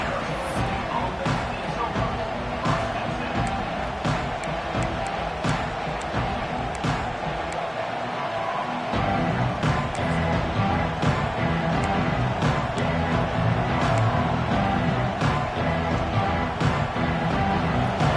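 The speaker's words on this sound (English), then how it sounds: "This crowd trying to make life miserable" A football stadium crowd at a night game roars loudly and continuously, a dense wash of cheering and noise that swells slightly in the second half, with a commentator's voice running over it.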